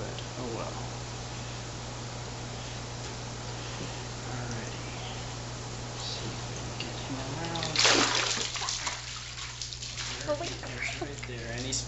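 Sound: tilapia splashing water in a net

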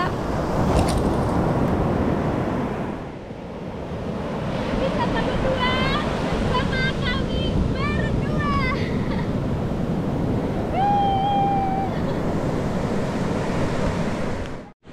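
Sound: ocean waves on the beach at Bugel, Pandeglang

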